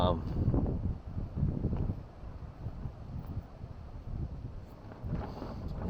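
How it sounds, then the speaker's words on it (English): Steady strong wind buffets the microphone in low rumbling gusts at a lakeside campsite in Victoria, Australia, with a faint murmur of voices mixed into the blustery noise. "just because it's so windy"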